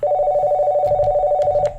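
A telephone rings with a steady electronic warble, held continuously and fairly loud, with a few brief clicks and knocks near the end before it cuts off.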